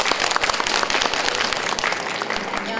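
An audience at a talk on Emily Dickinson at the 2023 Seoul International Book Fair applauds to welcome a speaker, with dense, steady clapping from a nearby crowd throughout, and no voices.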